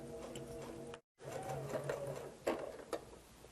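A sewing machine chain-pieces log cabin quilt blocks in quick whirring bursts, stopping for a split second before running on, with small clicks near the end.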